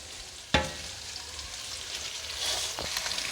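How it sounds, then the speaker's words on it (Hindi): Fish pieces sauté in a pan with ginger, garlic and browned onion, giving a steady soft sizzle with two sharp clatters of a spoon stirring and turning the pieces, quiet and close. "इसको हम इस तरीके से अलट पलट करते हुए इसको अदरक लहसुन और ब्राउन प्याज में हम सौते कर लेंगे सारे टुकड़े"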